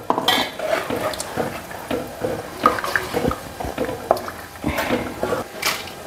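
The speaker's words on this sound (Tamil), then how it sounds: "தேவையான அளவு தண்ணி சேர்த்துக்கிறேன்." Water is poured into a pot of anchovy fish curry with tamarind, accompanied by clinking of metal pots and utensils and stirring sounds, close and moderately loud in an irregular rhythm.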